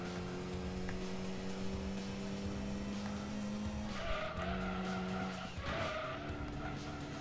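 A race car, a Mazda RX-7 in Gran Turismo 2, holds a steady engine drone, then skids and scrapes hard into a wall near the four-second mark, followed by a brief burst of tire noise, loud and close.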